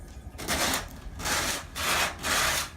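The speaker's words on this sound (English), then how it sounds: "So the sanding process is very straightforward." Sandpaper scrubbed by hand against the edge of a stuck wooden door, in three or four broad rasping strokes with short pauses between them, close and fairly loud with no talking.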